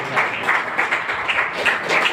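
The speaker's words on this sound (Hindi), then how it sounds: "कम से कम तालियां तो बजाइए" An audience claps at a network marketing event, a steady, moderately loud patter of many hands filling the whole moment.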